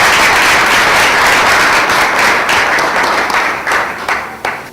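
Dense audience applause at a Côte d'Ivoire audiovisual producers' gathering, loud sustained clapping from many hands that thins and fades toward the end.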